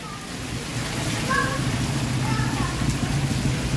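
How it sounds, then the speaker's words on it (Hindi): Heavy rain pours down in a dense, steady hiss, with a low rumble underneath and no break in the downpour. "बड़ी अच्छी बारिश है"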